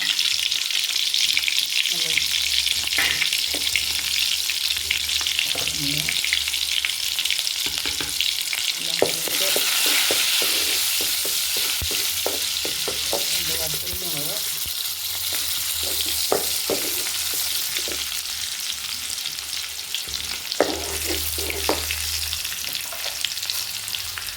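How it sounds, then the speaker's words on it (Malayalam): Onion and fenugreek seeds crackle in hot oil in a pan during tempering, with mustard seeds and curry leaves: a loud, steady sizzle with frequent sputtering pops and occasional stirring scrapes for over twenty seconds, no talking. "ചീനിച്ചട്ടി നല്ല എണ്ണ ചൂടായി കഴിയുമ്പോൾ ഉള്ളി, ഉലുവ,"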